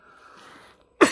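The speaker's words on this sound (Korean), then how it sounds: "제가 어제랑 오늘이랑 좀 기침을 하는데" A single sharp cough near the end, close and fairly loud after a quiet, faint hum.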